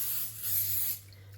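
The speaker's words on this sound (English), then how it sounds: "just a little bit of a non-stick cooking spray" Non-stick cooking spray hissing into a pan on a stove, one short soft burst of spray, close and quiet.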